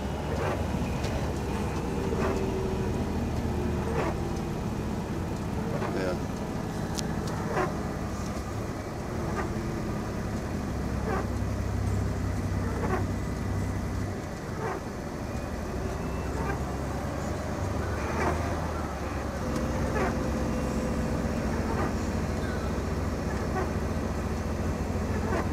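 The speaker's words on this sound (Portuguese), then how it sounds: "Nosso freio motor segurou o caminhão." A loaded or empty truck descending a steep quarry road in the rain with its engine brake engaged, a steady low drone with rhythmic pulsing and rumble running throughout, while a voice talks over it.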